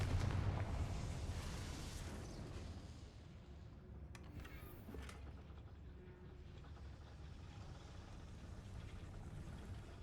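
A Confringo blasting spell in the video game Hogwarts Legacy, a heavy booming explosion at the start that decays into a long rumbling tail with crackling debris.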